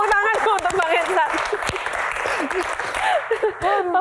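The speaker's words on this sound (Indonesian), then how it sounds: "Tepuk tangan untuk Bang Hensat." Audience applause during a live Q&A session, a continuous patter of clapping from the crowd heard under people talking and cheering voices.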